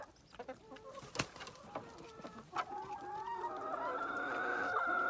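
Chickens cluck and squawk close by over table scraps tossed on a farm compost pile, a run of busy, overlapping calls swelling into a louder continuous chorus.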